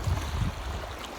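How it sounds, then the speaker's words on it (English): Waves on Georgian Bay heard from a boat, a continuous low rushing wash with wind-like hiss, steady and moderately loud without any talking. "Come the waves."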